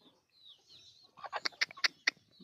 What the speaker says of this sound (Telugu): మా కోళ్ళు అయితే ఇష్టంగా తింటున్నాయి